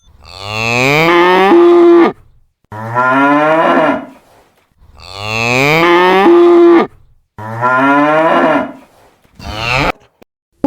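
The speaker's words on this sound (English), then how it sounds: "Cow." A cow mooing loudly and up close: four long, drawn-out bellowing moos in two matching pairs, separated by short silences, with no other sounds.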